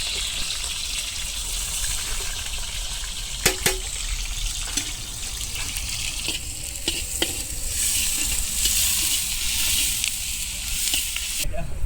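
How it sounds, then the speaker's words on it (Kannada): Onions and garlic frying in hot oil in a large pot at an outdoor cookout, a broad steady sizzle throughout with a few sharp metallic knocks and scrapes from stirring, fairly loud and continuous. "ಎಣ್ಣೆ ಕಾದ್ಮೇಲೆ ಈರುಳ್ಳಿ, ಆಮೇಲೆ ಬೆಳ್ಳುಳ್ಳಿ."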